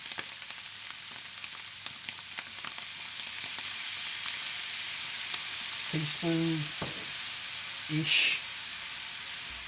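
Frozen peas and Worcestershire sauce frying in a pan give a steady soft sizzle and hiss, with brief stirring scrapes and clinks and a short spoken remark over the cooking.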